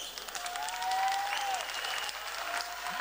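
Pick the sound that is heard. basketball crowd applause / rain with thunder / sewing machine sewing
basketball crowd applause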